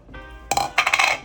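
A metal spoon clinks and taps against a pot while stirring thick pasta e fagioli soup with pureed beans added back in: a soft scrape, then a quick run of close, bright clinks.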